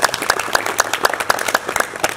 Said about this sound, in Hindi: एक तो भाई जोरदार ताली बजा के स्वागत कर देंगे।